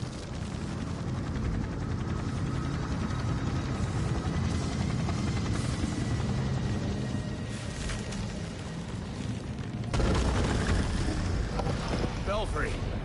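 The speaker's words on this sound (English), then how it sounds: "The GCPD is pulling back the helicopter due to the severity of the storm." A police helicopter in the Gotham Knights video game during a severe storm, its steady, loud rotor roar blending with dense wind and storm noise that swells near the end.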